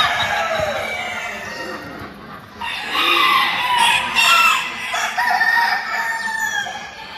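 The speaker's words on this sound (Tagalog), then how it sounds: "nakaka-miss po ang tilaok ng manok" Roosters crow at a poultry and pigeon show, several loud, drawn-out cock-a-doodle-doos rising over a busy background of clucking birds and ambient chatter.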